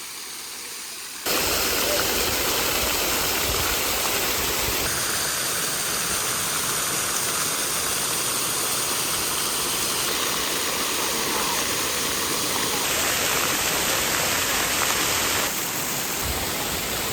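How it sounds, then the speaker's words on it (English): Water at a campground swimming pool and splash pad makes a constant broadband rush, like spraying fountains, running loud and unbroken for the whole stretch. "we're gonna go check out the swim pool slash splash pad area that's in the campground"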